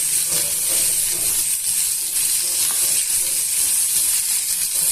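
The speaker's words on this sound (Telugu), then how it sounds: "బంగాళదుంప పొడిగా ఫ్రై అవ్వాలంటే ఇలా చేసుకోండి." Potatoes dry-frying in a pan on a medium-to-low flame with little oil, a steady dense hiss and sizzle running unbroken throughout at a constant level, with no talk.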